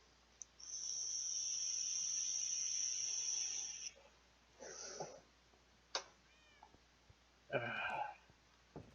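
Cats in the Minecraft video game, heard as a few short, separate meow-like calls after a long, steady high-pitched tone. No one speaks, and the calls come in bursts spread across the clip.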